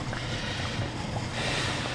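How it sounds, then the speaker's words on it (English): A garden hose runs at full force into a French drain pipe, producing a loud, steady rushing wash of water close to the microphone, broadband and unbroken for the whole moment. "Hose coming out of full force. Shove it in the pipe."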